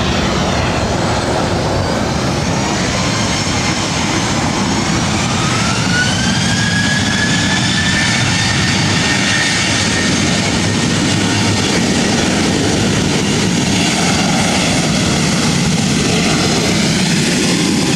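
An airliner takes off from runway 24 right at LAX, its engines giving a steady, loud roar that builds and holds for the whole stretch, with a rising whine layered over the continuous broadband rumble.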